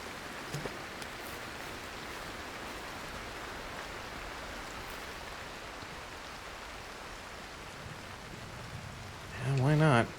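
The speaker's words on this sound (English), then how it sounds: "It's also raining." Steady rain hisses evenly in the climbing game Cairn, a continuous wash of falling drops heard alone throughout, with a brief louder burst of a voice-like sound right at the end.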